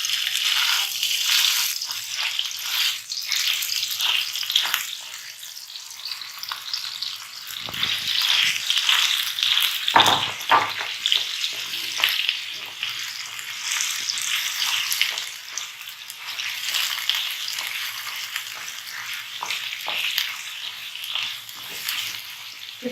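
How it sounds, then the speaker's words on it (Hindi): Chicken pieces frying in about two tablespoons of hot oil, a loud, dense sizzle and spatter that keeps going with bursts of sharp crackling and no talk. "अब हमने ये चिकन जो है उसमें थोड़ा सा फ्राई करना है।"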